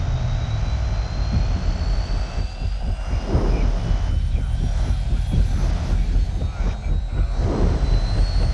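In a movie trailer, a helicopter flies with a loud, continuous roaring drone and deep rumble, swelling in waves and mixed with other soundtrack noise.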